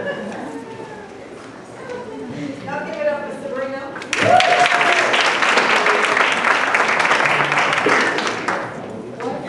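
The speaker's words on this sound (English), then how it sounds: "Y'all give it up for Sabrina" An audience bursts into loud, sustained applause for an award recipient at a ceremony, the clapping starting abruptly after a voice speaking over a microphone and continuing steadily before slowly tapering.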